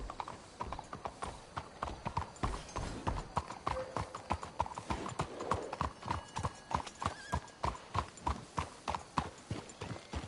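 Horses in the Red Dead Redemption 2 video game moving at a quick pace, with a rapid, rhythmic run of clip-clopping hoofbeats and an occasional whinny, close and fairly quiet.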